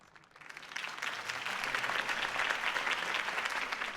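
Crowd applause following a Harvey Dent campaign speech, swelling quickly from a quiet start into a sustained, dense roar of clapping from many hands that holds steady to the end.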